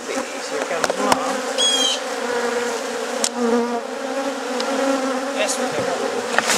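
A dense swarm of honeybees buzzes close by while being hived, a layered droning hum with occasional sharp clicks and knocks.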